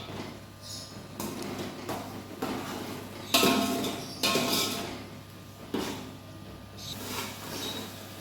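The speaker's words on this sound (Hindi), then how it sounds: "टमाटर डालने के बाद जो है 2 से 3 सेकंड हमने हिला दिया।" A spoon stirs tomatoes into onions in a cooking pot for beef nihari, giving a series of metallic clanks and scrapes at an irregular pace, close by, over a low steady hum.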